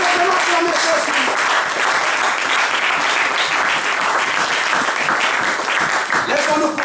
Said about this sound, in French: Est-ce qu'on peut acclamer très fort le roi des rois et le Seigneur des seigneurs?